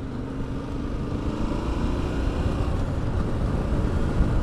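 Yamaha T7 adventure motorbike riding at night, a steady close engine drone with road and wind rumble that holds even and unbroken throughout, no talk.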